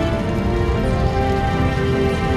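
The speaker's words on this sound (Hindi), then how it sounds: "गजब बारिश हो रही है, गजब बारिश, भयानक तरीके से सब फ्लडिंग हो चुका है एकदम" Heavy rain pours down steadily during flooding in Uttar Pradesh, a loud, unbroken hiss of falling water with no letup.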